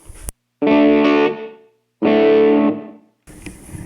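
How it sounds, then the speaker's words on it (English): Two sustained, heavily distorted electric guitar chords from a GP200 processor ring out one after another, each fading away, followed by a burst of noisy buzz. "that's going to be your distortion."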